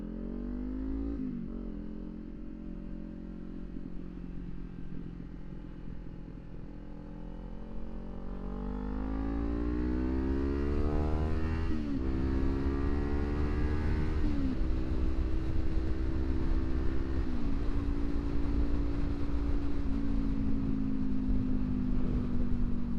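A 2024 Kawasaki Ninja 500 motorcycle engine with a new exhaust rumbles close by, then revs up and down in loud rising and falling sweeps. No one speaks.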